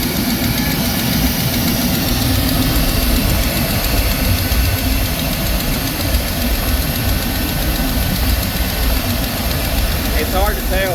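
A GM truck engine runs at idle during a distributor replacement, a loud, continuous mechanical drone with steady vibration, and a person talks over it.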